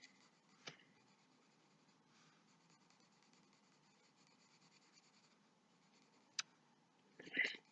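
Colored pencil drawn across paper with increasing pressure, a faint steady scratchy scribbling at close range with a few sharper clicks and a louder rubbing burst near the end, no talking.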